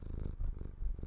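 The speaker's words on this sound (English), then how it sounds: "I'm hearing a lot of purring now." A cat held in someone's arms purrs close to the microphone, a soft low rhythmic rumble pulsing with each breath, heard alone.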